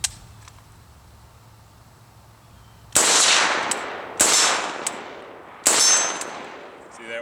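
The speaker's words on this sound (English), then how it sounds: "We'll go ahead and take a few shots to show that it's a functioning magazine." Three loud, sharp rifle shots from an AK-74 fired outdoors with a Tapco magazine, each a sudden crack with a decaying tail, spaced about a second apart after a quiet stretch.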